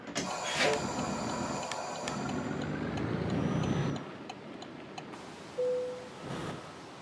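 Truck in Euro Truck Simulator 2 starting off, a quiet low engine rumble that builds and then drops away, with clicks, a brief tone and scattered game noises around it.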